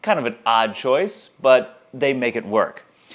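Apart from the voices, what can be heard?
No distinct noise like a dog, phone or traffic.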